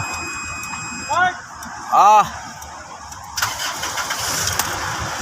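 A Mitsubishi Montero's engine, just back from a gas tank cleaning, cranks in two short bursts, the second louder and longer, then catches and runs with a rising roar while people talk nearby.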